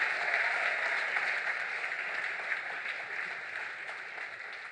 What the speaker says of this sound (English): Make the applause louder for Mrs. Ibukun Awashika for that wonderful charge.